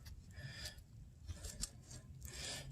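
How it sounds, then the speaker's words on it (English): Bristle brush scrubbing caked dirt off a small metal zipper pull dug up at an old hunting site, giving repeated close, rasping strokes with brief pauses between them. "So let's clean that off with the brush"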